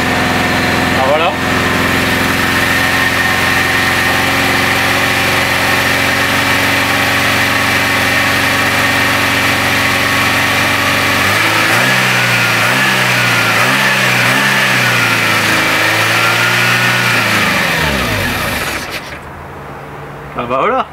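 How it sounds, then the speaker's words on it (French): A Renault 11 engine runs steadily after its carburetor fix, fitted with the carburetor from a Renault Rapid F40, idling with a constant hum before revving up and down several times near the end. "la voiture est tournante, j'ai qu'à juste à remettre le câble d'accélérateur"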